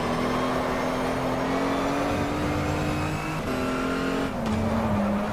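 Race car engine in GTR2 at Spa holding a loud, steady drone with shifting pitch while drifting, tires squealing through the slide, continuous and close throughout.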